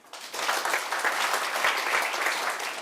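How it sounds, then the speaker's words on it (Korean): An audience at a university lecture on psychology in film breaks into warm applause, a dense, even roar of many clapping hands that swells quickly and holds steady. "여러분의 뜨거운 박수가 필요합니다"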